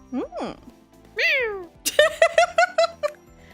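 A Siamese cat in the Hustle Cat video game gives a couple of drawn-out meows followed by a rapid run of short, chirpy mews, close and clear with no other sounds.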